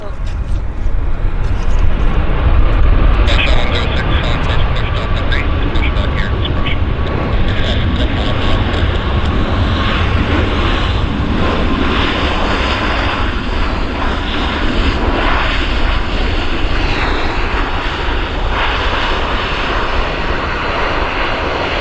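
A passenger airliner lands and rolls out down the runway at Vancouver Airport, a loud, steady engine roar filling the scene and slowly shifting in tone throughout, with people talking beneath it.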